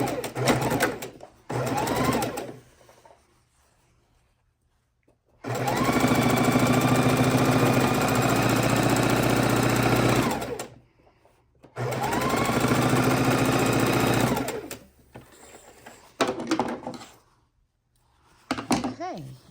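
Sewing machine stitching quilt fabric pieces for an easy four-fabric quilt, loud close runs of steady mechanical whirring lasting several seconds each, separated by pauses with a voice talking between them.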